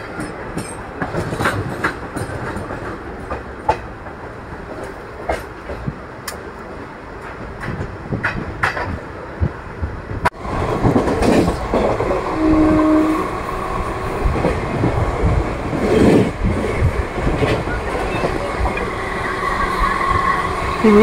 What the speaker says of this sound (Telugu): ట్రాక్ సౌండ్స్ అయితే ఏదైతే ఉన్నాయో ట్రైన్ సౌండ్స్